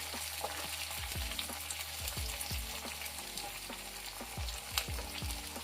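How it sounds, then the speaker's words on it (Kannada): Onions frying in a pan for a bitter gourd dish, a steady close sizzle with repeated scraping strokes of a spatula across the pan, no voices. "ಈರುಳ್ಳಿನ ಸ್ವಲ್ಪ ಫ್ರೈ ಮಾಡ್ಕೊಳ್ಳಿ, ಸಾಕಾಗುತ್ತೆ"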